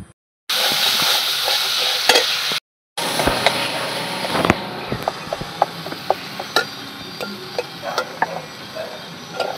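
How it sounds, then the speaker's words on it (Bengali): Ground spice paste of chili, ginger and cumin with turmeric powder and salt sizzles steadily in a pan, with repeated scraping stirs and clicks of a utensil close by; two short gaps near the start. "মশলাগুলো আমার ভাজা ভাজা হয়ে গেছে।"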